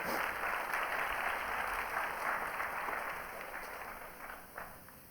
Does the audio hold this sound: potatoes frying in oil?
no